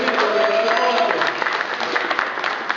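Audience applause at a New Year's iWowWe seminar in Kharkiv, a dense wash of clapping from a crowd that thins into scattered claps after a couple of seconds.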